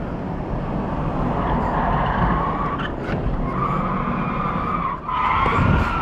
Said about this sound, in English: Good spin out there.